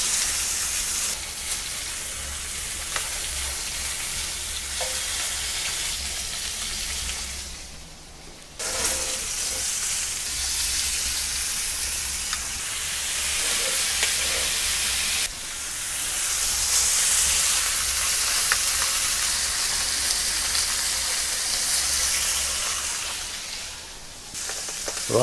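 Picanha fat rendering in a breakfast skillet, a loud hissing sizzle that runs continuously, dipping briefly twice and then swelling again, with no one speaking.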